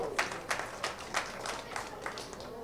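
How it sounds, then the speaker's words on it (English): A small audience at a three-cushion billiards match claps in a steady, evenly spaced rhythm, soft and somewhat distant, each clap a crisp tap in a quiet hall. "The audience wanted to give him a applause so they can cheer him up to get him going"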